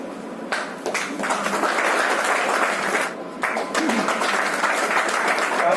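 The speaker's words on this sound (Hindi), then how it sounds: "जोरदार तालियां हो जाए।" Audience applause at a Hindi fortnight event with professors speaking, dense sustained clapping from a hall crowd with a brief dip partway through.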